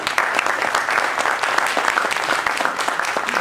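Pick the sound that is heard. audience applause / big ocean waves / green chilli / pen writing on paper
audience applause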